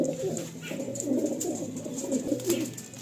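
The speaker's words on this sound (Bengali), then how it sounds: "পায়রাগুলো কত অ্যাক্টিভ দেখুন" Andhra pigeons coo softly in a loft, soft repeated burbling calls overlapping at a moderate, fairly quiet level, with no talk over them.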